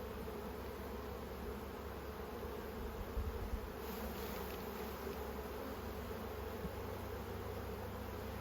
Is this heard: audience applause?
no